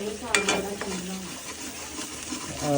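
Saag tempering (tadka) sizzling steadily in a pan, a continuous frying hiss with a few stirring clinks near the start, fairly close and moderately loud, no talk.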